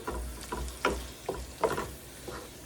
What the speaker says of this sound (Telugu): ఇది వేసేసుకోండి. వేసుకొని ఒకసారి బాగా కలుపుకొని